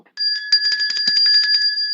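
A bell rings loud and close, a rapid steady trill of metallic strikes sustained for about two seconds, alone with no talking over it.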